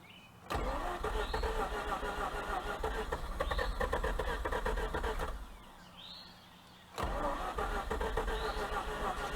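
A 2004 Mazda RX8 rotary engine cranks and fires, a steady starter churn running for about five seconds, pausing briefly, then cranking again, close and clear with no talking.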